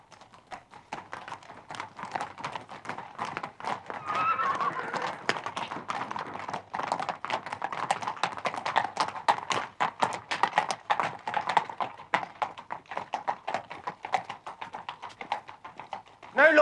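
A horse's hooves clip-clop in a quick irregular rhythm on hard ground, moderately close and fairly soft, with a brief louder burst at the very end.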